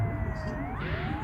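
An ambulance siren from the Indonesian bus-driving game Bus Simulator Indonesia wails with a rising and falling electronic tone over a steady engine rumble, moderately loud and continuous.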